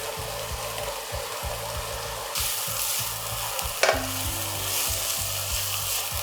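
Mushrooms and onions stir-fried with meat in a pan for spring roll filling, a loud continuous sizzle with a rhythmic low knocking underneath and a sudden burst of sizzle as ingredients go in.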